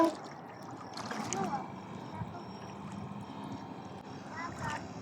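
A small boat on its first sea trial rides choppy waves, with water sloshing and splashing against the hull beneath steady engine rumble while people talk nearby.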